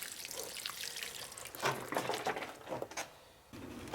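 Water pours and trickles into the soil of a potted fig tree being watered outdoors, a quiet splashing flow that swells and fades in short bursts.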